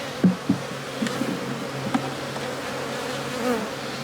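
Agitated honeybees buzz steadily around an open hive fitted with plastic frames, a dense continuous drone close by, with individual bees zipping past the listener now and then.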